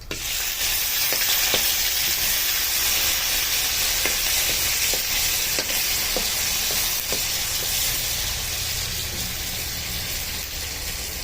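Garlic and chilli paste fries in a hot tempering of oil, a loud dense sizzle that holds steady throughout, with a few sharp stirring taps against the pan.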